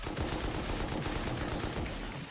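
Rapid gunfire from explosive rounds in the video game Rust, fired to break down a door, a dense continuous burst of shots at close range with no talk.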